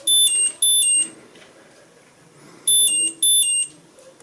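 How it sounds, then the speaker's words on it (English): An OOONO Co-Driver NO2 speed camera warner gives its alert, two pairs of bright high electronic beeps separated by a pause of about a second and a half, loud and close. "When a speed camera is detected, the OOONO will inform you on the map, and also the device will make this sound and flash."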